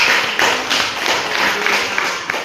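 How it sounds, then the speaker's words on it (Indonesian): Classroom applause for a student group, a steady patter of many hands clapping at close range throughout, with no voices over it. "Tepuk tangan untuk kelompok."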